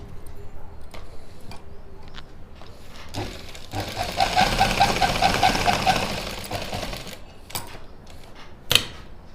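A sewing machine runs in a steady mechanical whir for a few seconds, stitching pleats on a suit at a tailoring class. Short clicks and handling noises come before and after the stitching run, and there is no talk.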